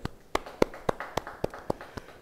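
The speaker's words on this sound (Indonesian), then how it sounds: "Beri tepuk tangan bagi dia." Hand claps in a church Bible study session, about eight sharp, evenly spaced claps in a steady rhythm, close and clear against a quiet room.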